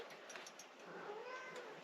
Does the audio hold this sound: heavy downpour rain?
no